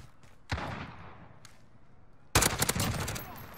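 Grau 5.56 rifle fire in Modern Warfare: a few scattered sharp shots, then a loud, rapid automatic burst of close, crackling gunfire lasting over a second.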